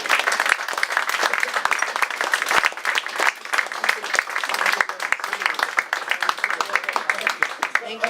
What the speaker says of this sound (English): could I suggest a round of applause for these guys who are organizing?